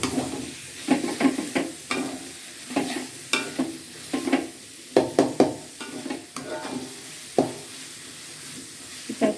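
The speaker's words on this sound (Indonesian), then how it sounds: "Kita tumis terus sampai agak layu cabai hijaunya" Green chilies stir-fried in a pan, a spatula scraping and tossing in irregular repeated strokes over a low sizzle, close and moderately loud, with no talk.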